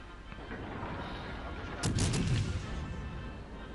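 Heavy naval gunfire from a 15-inch-gun battleship in a warship video game, one loud booming salvo about midway that lifts a steady low rumble and fades slowly.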